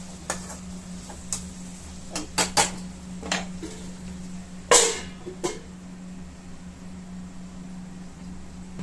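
Curry is stirred in a metal pot and then covered with a lid. Scattered light metallic clinks and taps lead up to one sharper clank, over a steady low hum.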